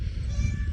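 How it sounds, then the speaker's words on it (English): A mother cat meows in one short, close call lasting under a second, with a steady background hum underneath. "She's a mama kitty too"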